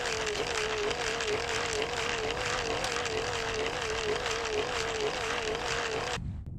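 A small supercapacitor-powered model airplane flies with a steady, fairly loud propeller whine that wavers gently in pitch, then cuts off abruptly near the end.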